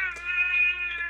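A small girl screeching wildly in a high, wavering, cat-like wail, one sustained cry heard moderately loud with no talk over it.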